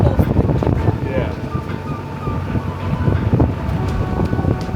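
Strong wind gusting across a choppy canal, a loud steady rush with buffeting on the microphone that continues throughout.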